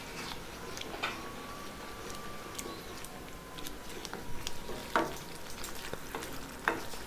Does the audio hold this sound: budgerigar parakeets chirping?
no